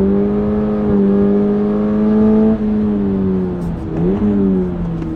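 Toyota GR86 sports car accelerating on a track, a steady loud engine note climbing in pitch, briefly dipping around a gear change, then pulling again without any talking.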